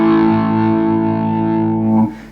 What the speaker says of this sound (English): now I've got my guitar plugged into the Electro-Harmonix stereo talking machine, which is basically an envelope filter